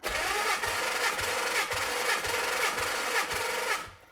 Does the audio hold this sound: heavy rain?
no